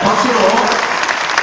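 Applause fills a church general assembly hall, a dense steady wash of many hands clapping throughout with some voices mixed in.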